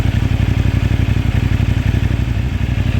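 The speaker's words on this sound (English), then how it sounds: "Listen to the bike and tell me what you think." A CFMoto 450NK motorcycle engine idles loud and close, its steady rapid pulsing thrum mixed with a light mechanical clatter and no talk.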